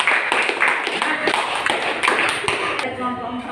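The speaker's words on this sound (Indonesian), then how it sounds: "Beri aplaus untuk kelompok 3" A classroom group claps for a presenting team. Light, brisk clapping from several people runs for about three seconds and then fades, with a voice heard faintly at the end.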